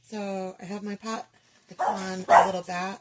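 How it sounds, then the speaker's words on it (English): A dog barks loudly a couple of times in a pottery studio during a slip-decorating demonstration, the barks mixed in with someone talking close by. "That's my dog."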